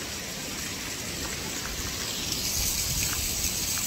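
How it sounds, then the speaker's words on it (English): Water rushing and splashing everywhere around waterfalls on a Big Soddy Creek Gulf hike after rain, a steady broadband outdoor wash with no voices. "Like the sound of the water everywhere."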